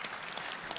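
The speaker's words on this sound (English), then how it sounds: "Give yourselves a round of applause" Audience applause at the Tygerberg Hospital town hall meeting, a brief, continuous burst of crowd clapping heard from a distance.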